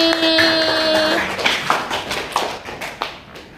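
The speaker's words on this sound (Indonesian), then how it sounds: "tepuk tangan buat Kinanti" Brief classroom applause during a social studies lesson, a few sharp separate claps following a sustained tone, thinning out and fading toward the end.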